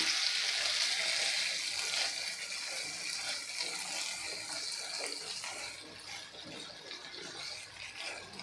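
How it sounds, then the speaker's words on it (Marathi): Water splashed onto a brinjal (eggplant) curry cooking in a pan, then stirred in, giving a steady close hiss and sizzle that softens slightly toward the end, with no voices. "पुन्हा आपल्याला यावरती थोडासा पाण्याचा हबका मारून घ्यायचा आहे आणि मिक्स करून घ्यायचं आहे"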